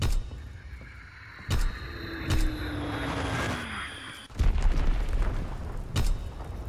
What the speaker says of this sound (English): Azon bomb